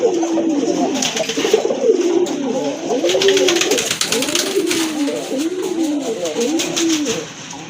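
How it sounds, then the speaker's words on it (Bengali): Rajgolla pigeons coo loudly and close by, a run of rolling, repeated calls overlapping one another with little else around. "আরেক জোড়া কবুতর রাজগোল্লা কবুতর"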